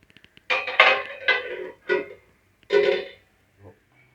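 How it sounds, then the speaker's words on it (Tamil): A metal lid clanks and rattles onto a kadai of simmering chicken curry in a few sharp, close knocks and clinks, followed by a faint final tap, with no talking. "இப்போ நம்ம மூடியை போட்டு கேஸை சிம்மில் வச்சுடுவோம்."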